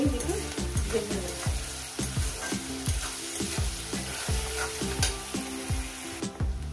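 Onion and eggplant fry in a pan for a shrimp dish, a steady close sizzle broken by repeated scraping stirs of a spatula, with no talking.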